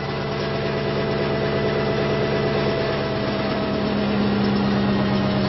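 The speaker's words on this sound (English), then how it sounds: "So I'm going to put it into conventional generator mode, as we saw with this generator." A ReGenX motor-generator prototype running in conventional generator mode gives a steady, loud mechanical hum with a constant whine, even and unbroken throughout, with no talking.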